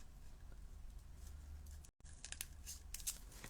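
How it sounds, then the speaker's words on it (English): Scissors snip through paper and card during craft work: quiet crisp cuts and rustling, with a brief gap midway followed by a few sharper snips and crinkles, no speech. "I'll just get my scissors under there."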